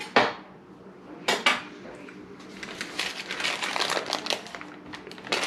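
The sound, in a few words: dessert being put back into a bowl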